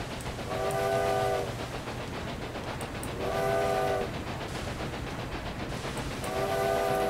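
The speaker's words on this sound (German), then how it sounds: "Wir haben erstmal ein großes Vergnügen per Gestensteuerung zu hupen" A train in Railway Empire 2 sounds its horn three times in long, steady blasts over a constant rumble and clatter of rolling wagons.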